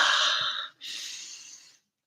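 Long, deep breaths during a tense baseball game livestream, a drawn-out inhale followed after a short pause by a slow exhale, close to the microphone with no talking.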